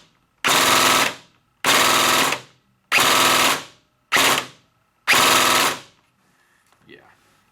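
A Kong Power VFC SCAR airsoft electric rifle fitted with a Burst Wizard MOSFET fires five rapid mechanical bursts at close range, each a sharp buzzing clatter, with short silent gaps between them.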